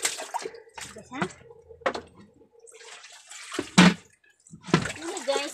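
Water splashes and pours from a dipper during an outdoor bath, sloshing in short irregular bursts while a person talks over it.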